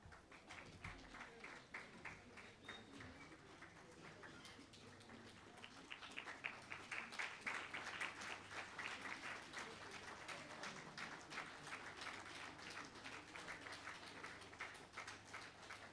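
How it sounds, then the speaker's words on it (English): Applause from a hall audience greeting dignitaries as they enter at a World Teachers Day event, a steady wash of clapping that swells around the middle and continues throughout, with faint voices underneath. "Yes, you can clap hands as they come in."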